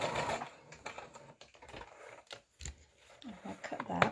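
Sewing machine stitching across the end of a fabric piece, heard as short bursts of rapid mechanical whirring broken by pauses, fairly close but quiet and with light handling noise between the runs.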